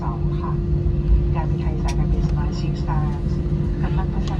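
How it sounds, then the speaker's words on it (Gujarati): A low, steady engine drone of an airplane taxiing at the airport after landing hums from inside the cabin, with people talking over it throughout. "જો કેવું મસ્ત મજાનું પ્લેન જાય છે."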